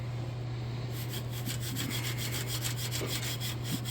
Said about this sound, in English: that kind of stuff right there is actually tearing the steel wool up a little bit. And I'm having to use quite a bit of pressure.